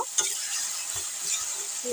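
Boiled taro being stirred and fried in a pan, a steady sizzle with scraping spoon strokes against the metal, close and fairly loud with no talking.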